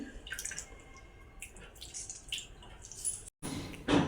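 Soaked tamarind pulp squeezed and pressed by hand for pani puri water, giving soft wet squelches and drips of liquid in a short run of close, quiet sounds with a brief gap near the end.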